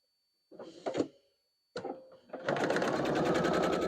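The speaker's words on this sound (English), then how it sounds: "now we're sewing this on to the other side" A sewing machine stitches fabric pieces for a barn star quilt block: a few short starts, then a steady, close, fast mechanical whir with a rapid even rhythm that runs continuously to the end.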